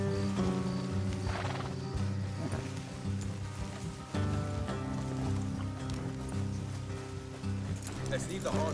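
Horses clip-clopping and whinnying in the video game Red Dead Redemption 2, over a dense bed of music and ambient sound, with voices talking throughout.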